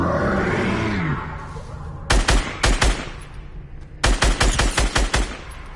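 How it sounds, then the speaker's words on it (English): Two quick clusters of loud pistol shots in Fortnite, each a rapid string of sharp cracks close by, preceded by a rumbling roar and separated by a brief lull. "Let me kill him with the pistol."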